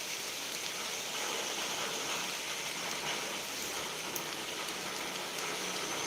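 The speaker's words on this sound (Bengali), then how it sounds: "বাইরে কীরকম বৃষ্টি হচ্ছে দেখো" Steady, dense rainfall pours down outside, a continuous hiss of drops with occasional louder splashes, no voices heard.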